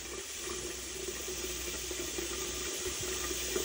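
Well water runs steadily from a tap into a big coffee pot, a continuous hissing splash at moderate level with no pauses.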